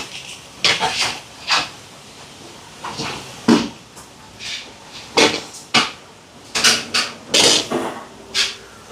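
A cooking pot for fish curry is set down and shifted on a stove, giving a series of sharp knocks and clatters with short scraping sounds in between, close and fairly loud.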